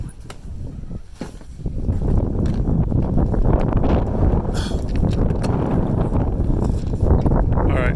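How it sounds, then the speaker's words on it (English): Strong wind blowing outdoors in North Dakota in February, a steady, loud rushing roar buffeting the microphone close up, rising after the first couple of seconds and continuing throughout, with no voices. "So the wind is blowing."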